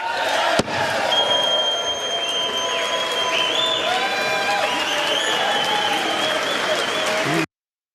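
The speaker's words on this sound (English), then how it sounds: "They're cheering." House of Representatives members cheer and applaud after a bill passes, a dense, steady wash of clapping and crowd noise that fills the room, with a sharp bang near the start and faint voices within the din.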